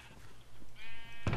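Short, repeated bleats from a Minecraft sheep, clear and close over a quiet in-game background, ending in a louder burst.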